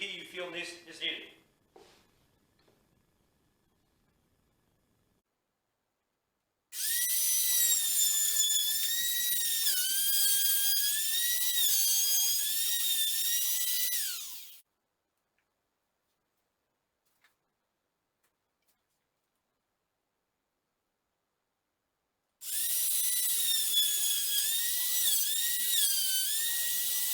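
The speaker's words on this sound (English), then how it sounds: "set the fence to the appropriate depth across here and start routing these things out" A power router cutting wood pieces against a fence set to depth for a small garden butterfly house: two loud, piercing whining runs of several seconds each, separated by silence, with brief talk at the start.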